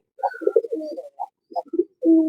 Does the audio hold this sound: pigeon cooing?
yes